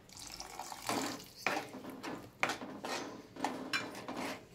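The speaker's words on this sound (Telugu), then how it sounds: "వాటర్ పోసుకుంటున్నాను, కారం కూడా మగ్గింది కాబట్టి" Water is poured into a pan of curry gravy with fried peas and chili, producing a continuous close splashing and trickling, with a few louder gushes and faint clinks of a pot.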